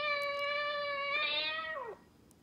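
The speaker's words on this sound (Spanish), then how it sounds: "Gato. Cat. Cat." A cat gives a single long, clear meow that bends downward at the end, close and alone.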